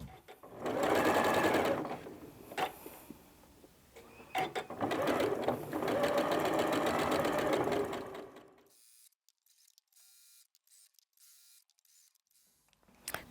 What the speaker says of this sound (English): we're going to take those to the machine and sew with our needle just to the very outside